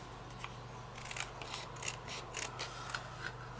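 Scissors snip repeatedly through craft card while a greeting card is being assembled, a steady run of close, crisp cutting clicks at a low level with no talking.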